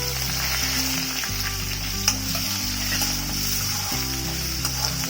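Steady sizzling of onions frying in a pan, with occasional scraping as they are stirred, running continuously without any talking.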